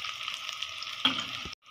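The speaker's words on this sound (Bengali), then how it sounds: "পেঁয়াজটা ভাজা হোক।" Onions frying in a pan for a beef and potato curry, a steady close sizzle that briefly crackles louder before cutting off into silence.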